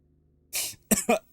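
A short burst of coughing from a man laughing while playing a horror-themed Mario game, three quick harsh coughs close to the microphone in about a second.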